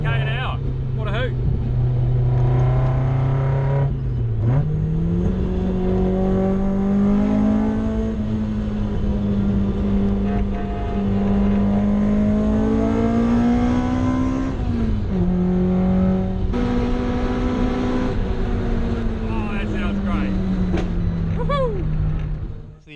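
A Toyota AE86 street car drives and accelerates, its engine a steady droning tone from inside the cabin that rises and dips with throttle and gear changes, while someone talks over it.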